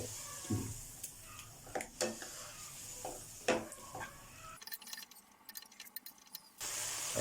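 Quiet sizzling of bite-sized chicken pieces stir-fried in a pan without oil, with scraping and stirring clicks, the utensil knocking intermittently, fairly soft and close.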